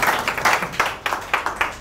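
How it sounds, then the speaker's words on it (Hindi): Loud, close applause from a group, steady clapping with rhythmic bursts throughout the short stretch, no voices on top. "तो हमें तालियां बजानी पड़ेंगी, मजबूरी है."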